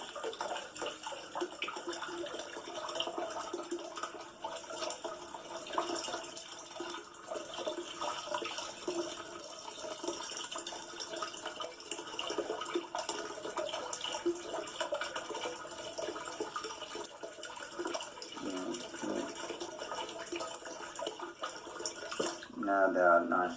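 Tap water runs steadily over seeds being washed in a sieve, a continuous hiss and splash that lasts throughout, with a person talking over it.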